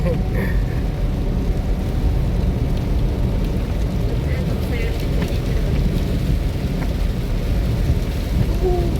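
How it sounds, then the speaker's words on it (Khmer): Heavy rain pours steadily over Sihanoukville in a thunderstorm, a dense, loud wash of rainfall with low rumbling underneath that continues without a break. "ភ្លៀងមកហើយ"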